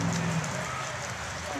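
Hail or icy snow falls outdoors in Burbank, a steady dense pattering hiss on surfaces that holds evenly throughout at moderate loudness.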